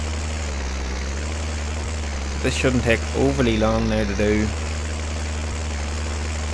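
A tractor engine idles steadily in Farming Simulator 19, a constant low droning hum with a tonal whine, while someone speaks briefly over it in the middle.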